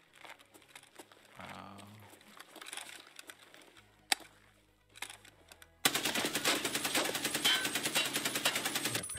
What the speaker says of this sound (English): His first initial recoil for this AK is insane.